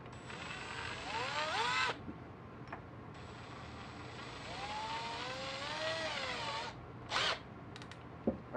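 A Makita DHP481Z cordless combi drill whirs in close, loud bursts as its chuck spins to clamp a red Robertson bit, a long whine then another, followed by a few sharp clicks, with no voices.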